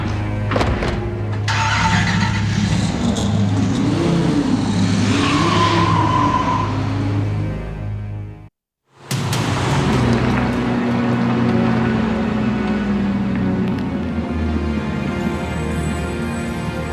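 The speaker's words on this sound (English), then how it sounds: "Get in the car and drive." A car drives hard with a loud engine and screeching, skidding tires, close and continuous, broken by a brief silent gap before the engine and road noise resume without speech.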